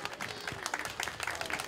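An audience claps steadily at a lion dance and drum troupe show on Nanzhuang Old Street in Miaoli, a soft, even patter of many hands with a faint crowd murmur beneath.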